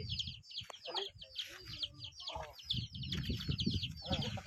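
Chickens cluck and chirp close by on an asparagus farm, a busy overlapping series of short calls, with low rustling and background noise beneath them.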